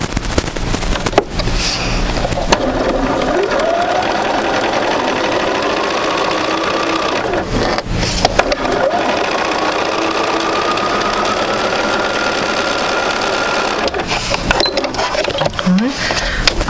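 A sewing machine runs steadily, stitching fabric for a basic sampler quilt block, with a loud continuous mechanical whir and rapid needle chatter, briefly pausing and restarting.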